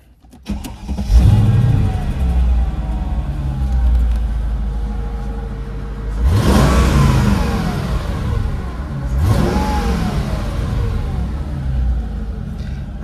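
A 2001 Mercedes-Benz SL500 R230 V8 starts with a crank and catches into a deep, loud idle, then gets two strong revs that rise and fall back to a rumbling idle, close by with no talking.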